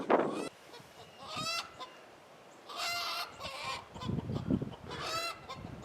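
Several hens cackle and squawk after laying an egg, loud bursts with pauses between, a lively chorus of fowl calls close by.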